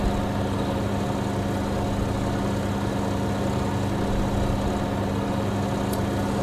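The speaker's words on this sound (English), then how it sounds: "Sounds like a real mower." Lawn mower engine in Farming Simulator 19 running steadily, a continuous droning hum with a low buzzing tone, even in loudness throughout and with no voices over it.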